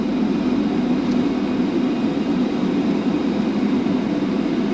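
Mercedes-Benz GLB250 2021 with its 4-cylinder turbo engine on a test drive, a smooth steady low drone and road hiss heard from inside the cabin with no talking.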